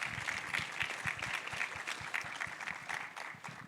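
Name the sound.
applause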